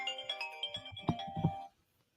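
A phone ringtone plays a short melodic electronic tune of bright tones for about a second and a half, then stops into silence.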